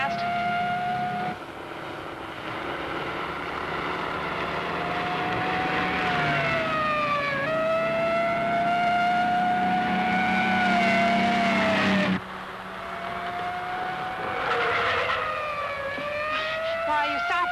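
A wailing police motorcycle siren in a 1950 film rises and falls steadily over engine drone, loud and close for most of the stretch before dropping away, then resuming.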